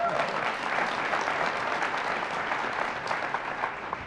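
Applause from a panel audience, moderately loud and fairly even, holding steady for a few seconds as a continuous patter of hands without any clear speech over it.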